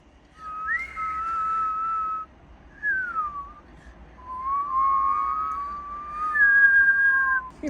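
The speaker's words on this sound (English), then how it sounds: "You always must whistle softly." Soft, melodic human whistling in several separate phrases, some sliding and some held steady, close by and alone with no talk over it.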